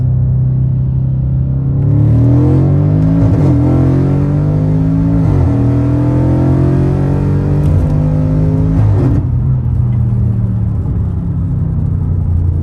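A BMW F10 550i with the N63 twin-turbo V8 and a JB4 tune pulls hard in first gear, engine roaring loud and close as its pitch climbs through several upshift-like drops and rises, no talk over it.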